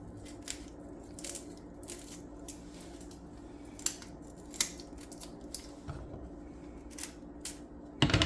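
Dry papery outer skin being peeled by hand from a halved onion in a home kitchen, heard as a series of close, crisp crackling and tearing snaps with a louder clatter at the end.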